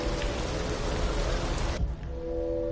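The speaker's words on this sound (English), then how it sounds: "Now we can actually hear the raining." Steady rain pours in the video game Detroit: Become Human, making a dense hiss close by with a soft low rumble underneath. The upper hiss suddenly drops away partway through while the heavy rain continues.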